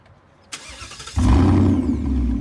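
A 2021 Ford Mustang GT 5.0 with a new aftermarket exhaust cranks and fires up after a couple of clicks, then settles into a loud, deep, rumbling idle close by.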